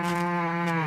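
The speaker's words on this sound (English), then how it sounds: "The black and white Ayrshire cow chews green grass" A black and white Ayrshire cow gives one short, sustained moo, close and clear, alone with no other sounds.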